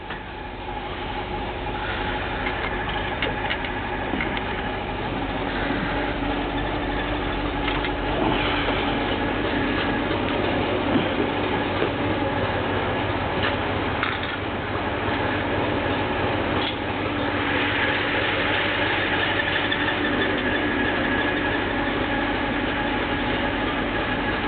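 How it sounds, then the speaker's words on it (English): A 1963 Ford F750 fire truck idles after a cold start around 700 RPM, a loud, steady rumbling drone with faint clicking and rattling throughout, no voices. "Idling there about 700 RPM."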